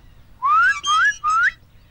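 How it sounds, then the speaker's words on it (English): A person gives three rising whistles to call a dog in a children's animated show, each note sliding upward, close and loud with short gaps between them. "When I whistle, you come to me"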